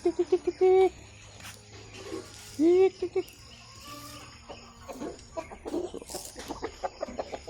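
Chickens cluck in short bursts nearby, a few sharp calls standing out, while a person talks quietly in the background.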